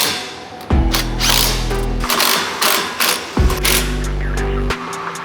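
A ratchet tightens bolts on a full-height bed rack for a 2024 fourth-generation Toyota Tacoma. Two long bursts of fast, close mechanical clicking come with clatter in between and no talking.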